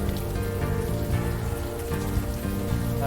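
Steady rain falling on a nasty night in the game Unavowed, a continuous dense patter of drops on surfaces, even and moderately loud with no voices.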